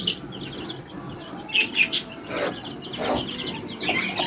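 Chickens and chicks in a farm aviary at night give off soft clucks and short chirps, a few brief calls standing out over a steady low background hum.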